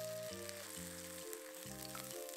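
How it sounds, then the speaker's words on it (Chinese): Thick seafood and scallion pancake fries slowly in oil over low heat, a soft continuous sizzle heard close, with steady sustained tones of background music running over it. "厚的你得小火多煎一会儿"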